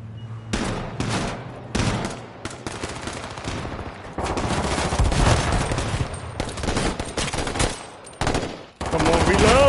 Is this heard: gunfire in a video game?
yes